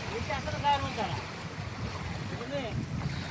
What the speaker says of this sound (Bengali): সাগরের শব্দ, পানির শব্দ